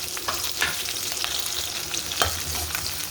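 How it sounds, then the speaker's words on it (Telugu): Green chillies and onion fry with a steady crackling sizzle in a pan, punctuated by light stirring scrapes. "ఇంకా పచ్చిమిర్చి ఆనియన్ చేసేద్దాం మరీ ఎక్కువ ఫ్రై అవసరం లేదండి"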